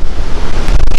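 Strong river currents rush at the Condor Machay waterfalls, a loud, close, unbroken roar of churning water with no voices.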